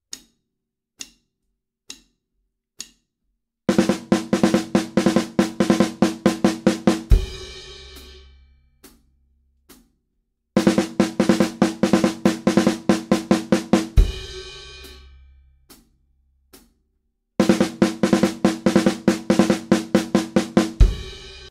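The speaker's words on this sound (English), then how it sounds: "If we were to just play that much on the snare drum, it would sound like this." Snare drum playing the Herta sticking in quick bursts of rapid, crisp strokes, loud and close, repeated three times with a few sparse single hits and short gaps between the bursts.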